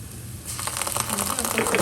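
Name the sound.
tomato paste sizzling in a pan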